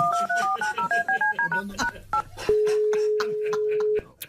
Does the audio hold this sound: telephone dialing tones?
yes